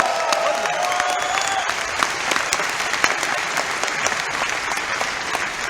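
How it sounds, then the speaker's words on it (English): Loud, steady applause from a large conference audience, many hands clapping in a dense continuous roar with a few sharper claps standing out, no talk over it. "Give yourselves and the company a round of applause if you can."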